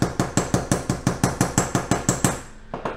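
A hammer strikes a metal stamping blank for a moon phase necklace, about fourteen quick, evenly spaced sharp taps, close and crisp, ending with a couple of softer knocks and no talking.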